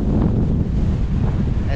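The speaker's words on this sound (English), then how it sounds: "And yes, it's windy again" Strong wind buffets the microphone outdoors on a ranch in a continuous low roar, loud and steady throughout.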